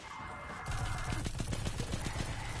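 Rapid automatic gunfire in the Destiny 2 video game, a burst of close, loud repeated shots starting after a brief quiet moment and continuing steadily to the end.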